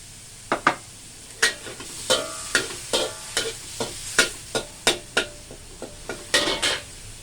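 Wide rice noodles with minced chicken stir-fried in oil, a sizzling wok under rhythmic scrapes and clanks of a spatula, about a dozen strokes in an even beat, close and alone.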